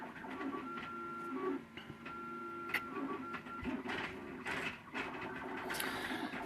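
A 3D printer printing a print-in-place fidget cube, with stepper motors whining in changing pitches and a continuous mechanical hum and clicks, fairly quiet and close, with no one talking.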